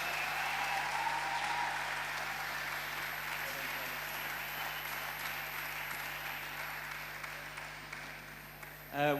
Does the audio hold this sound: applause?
yes